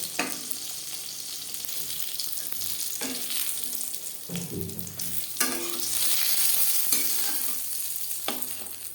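Eggplant slices for begun bhaja frying in oil, a steady close crackling sizzle with scattered scrapes and clinks of a utensil against the pan throughout.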